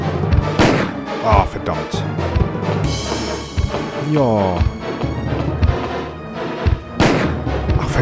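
Several sharp, loud gunshots from the game Resident Evil, scattered irregularly among other game noise, with a voice speaking briefly between them.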